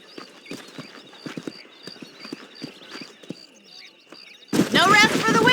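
Galloping horses in the Red Dead Redemption 2 video game, a run of near hoofbeats with a whinny, then a burst of louder game noise at the end.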